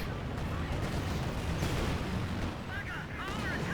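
Tank battle in Company of Heroes 2, with a T-34-85 and a Sturmtiger, heard as a dense, continuous roar of gunfire and explosions and tank engine rumble close up, with faint tonal game effects near the end.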